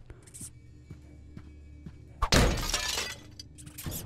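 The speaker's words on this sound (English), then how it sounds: "Erase the past, shatter picture frames." Glass picture frames shattered in the game Kill It With Fire: one loud, close crash of breaking glass with a bright scattering tail lasting over a second, after a quiet stretch of faint soft thumps.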